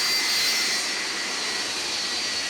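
Steady broadband roar of an airliner's engines heard from inside the cabin during a northbound flight from Oslo toward Norway's far north, constant and loud with no talk.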